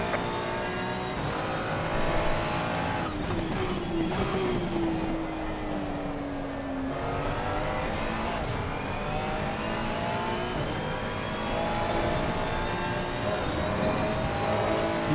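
A race car engine in the Assetto Corsa Competizione racing game drones and revs continuously, rising and falling in pitch through gear changes, loud and sustained with no pauses.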